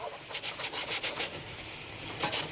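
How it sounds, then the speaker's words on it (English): Pan bottom scraped with a utensil while sweet and sour shrimp sauce with rice wine vinegar is stirred: a steady run of close, rasping strokes with no talking. "Give it a zhuzh and scrape. Get all those delicious bits off the bottom of the pan."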